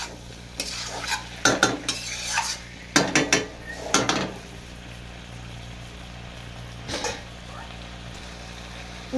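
Raw shrimp and jackfruit being stir-fried in a pan: a spatula scrapes and clatters against the metal in irregular bursts over a soft, steady sizzle.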